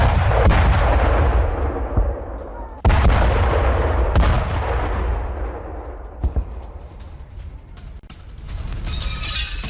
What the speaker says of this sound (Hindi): बेलगोरोद एयरपोर्ट पर बड़े धमाके की तस्वीरें कैमरे में कैद हुई हैं